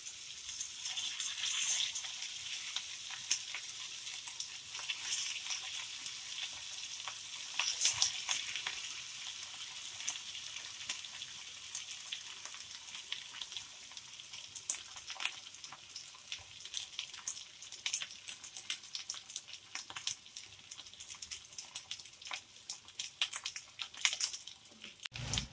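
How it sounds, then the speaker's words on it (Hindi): Potato cutlets (aloo tikki) fry in oil over a low flame, giving a continuous soft crackling sizzle with scattered louder pops throughout, close and steady with no talking. "अब हम इसे फ्राई कर लेंगे। तेल को हम थोड़ा लो आंच ही रखेंगे।"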